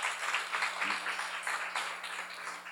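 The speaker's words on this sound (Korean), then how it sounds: "박수로 하세요." A church audience at a Korean seminar sermon breaks into sustained applause, a dense, even wash of many hands clapping that holds steady throughout without pause.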